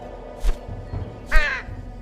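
Two crows caw in a children's pirate story, a short rough call followed by a louder, longer one, both close and clear with no talk over them.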